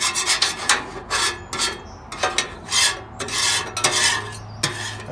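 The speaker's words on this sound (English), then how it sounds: "I take my spatula and scrape off any big chunks of whatever that may be on the grill" Metal spatula scraping chunks across the surface of a 22 inch Blackstone Adventure Ready griddle: loud, close, rasping strokes, about two per second, each a separate scrape, with no speech.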